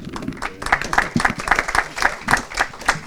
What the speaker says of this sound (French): oui, on peut t'applaudir